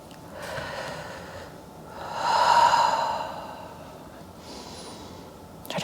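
A person breathing during a yoga forward-fold stretch: a slow, soft exhale that swells in the middle and fades, close and fairly quiet in a calm room, with a faint breath at the end.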